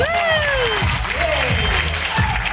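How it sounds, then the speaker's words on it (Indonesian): Indonesian audience applauding at a gathering, a dense sustained burst of clapping with crowd noise and a few sliding whistle-like tones riding over it. "Tepuk tangan dong untuk kita."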